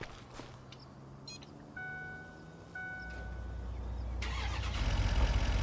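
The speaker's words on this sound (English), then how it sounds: "let's just hop in the rig and we'll just run the trailer over here" A truck engine in Farming Simulator 25 cranks and fires up, then settles into a rising, steady rumble, with a few beeps just before it starts.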